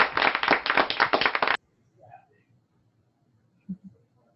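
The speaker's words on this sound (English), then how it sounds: "I clapped for myself." A single person claps their hands in a quick, steady run of close, sharp claps lasting about a second and a half, then stops; a couple of faint thuds follow in near silence.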